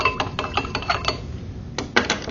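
A utensil stirs salt into distilled water in a container, producing a quick series of light clinks and taps against the vessel, close and fairly crisp, with an irregular rhythm and a short pause before a final cluster.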